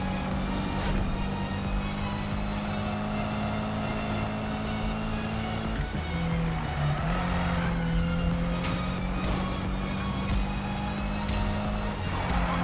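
Car drifting in the Need for Speed video game during a drifting contest, a steady loud engine drone with shifting pitch and rough tire noise, continuous throughout with no talk.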